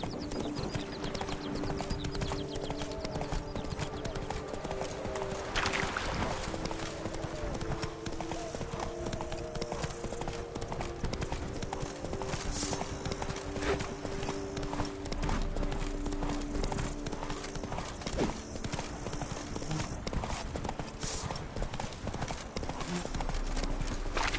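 Hooves of Roach, a horse in The Witcher 3: Blood and Wine, clip-clop steadily and up close over a busy game soundscape of music and ambience, with brief voices and a horse whinny partway through.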